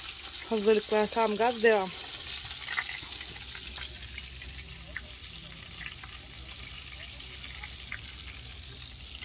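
Butter melting in a pan at a caravan camp, a soft, steady sizzling hiss after a short burst of speech, quiet and continuous with a few faint clicks.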